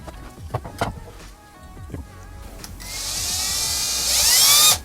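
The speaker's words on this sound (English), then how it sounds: "that's why we are drilling it to mount it this way instead" A power drill boring into a wall to mount a metal paper towel holder, a rising high-pitched whine that spins up and holds steady after some handling clatter.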